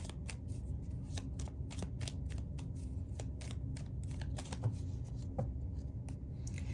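Tarot cards being shuffled by hand during a card reading, a steady run of soft riffling slaps and papery flutters, close and fairly quiet, with no talking over it.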